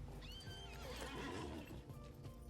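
A horse whinnies in The Lord of the Rings Online, a single rising and falling neigh with a light clip-clop of hooves, close and clear with no talking.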